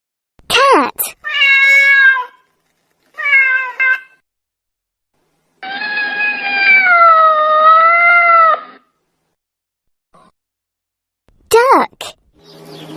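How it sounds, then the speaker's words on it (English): A cat meows several times, close and loud, mixing short calls with one long, wavering, drawn-out wail, with quiet pauses between the cries. "Cat."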